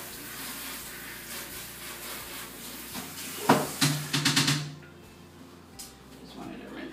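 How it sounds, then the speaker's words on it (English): Tap water running in a kitchen sink while a spatula is rinsed under it, a steady close splash and gush with brief louder splashing in the middle, and some clattering underneath. "Just wanted to rinse off my spatula a little bit."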